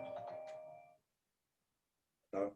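A phone ringtone chimes in a lecture hall during an author talk, a short melodic tone pattern for about a second, then silence before another burst of the ring starts.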